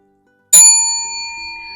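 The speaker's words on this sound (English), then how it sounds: "I'll simply ring this bell" A single bright hand bell strike rings out sharply in an elementary school art classroom, then its clear metallic tone lingers and slowly fades.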